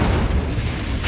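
Fire spell blast in Hogwarts Legacy, a single short booming burst of flame, loud and close, fading within about a second.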